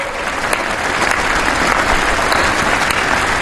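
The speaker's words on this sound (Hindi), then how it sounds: "आइए कुछ पल तालियां बजा करके उनका सम्मान करें" A large crowd applauds India's athletes at the 75th Independence Day ceremony, a dense, sustained clapping that stays loud and even throughout.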